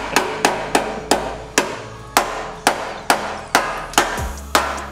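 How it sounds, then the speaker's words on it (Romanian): Work on a Jeep Grand Cherokee WJ brings sharp, loud hammer blows on metal, about a dozen evenly spaced strikes in a steady rhythm, close by with no talking. "dă-mi un ciocan"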